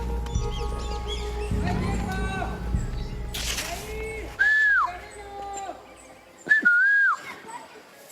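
Two sharp, rising-then-falling human whistles ring out clearly, one after the other, in an outdoor Mazatec setting, following nearby talk and background noise.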